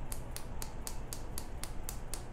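One-handed finger clapping, a fast steady train of about ten sharp snapping cracks close up, evenly spaced over a low background rumble.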